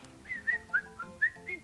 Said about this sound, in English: he whistled a happy tune.